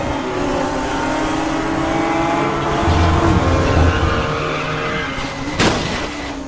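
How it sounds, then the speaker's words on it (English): A racing engine in the RaceRoom video game, a GT4 car at Brands Hatch Indy, drones steadily with shifting pitch, then a sharp thump near the end as the car jolts over a curb. "as soon as we hit that bump on the curb"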